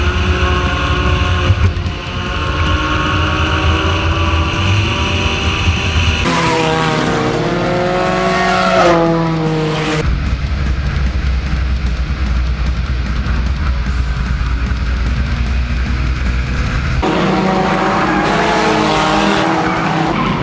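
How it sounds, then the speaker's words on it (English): Cars in a nighttime enduro racing video game squeal and skid loudly and continuously, engine drone under long tire screeches that rise and fall in pitch, with no one speaking. "I hear my car squeaking."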